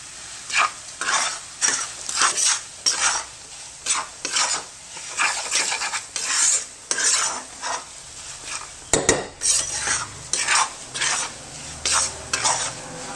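Moong dal roasting in ghee in a pan for moong dal halwa, stirred with a spoon in close, rhythmic scraping bursts over a soft sizzle, with one sharp clink midway.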